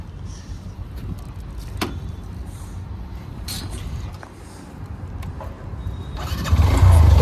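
A Hero Xtreme 125R motorcycle idles steadily on its double stand with a continuous low engine drone and faint chain rattle, growing louder near the end as the engine is revved.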